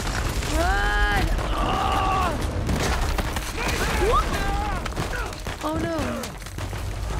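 Gunfire in the video game Uncharted 4: A Thief's End comes as rough, booming bursts of shots and impacts running through the game audio, with a player talking and exclaiming over it.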